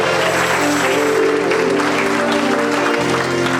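Church congregation at a Sunday gathering claps and cheers in sustained, loud applause with crowd voices mixed in, steady throughout, and a drop in the low rumble near the end.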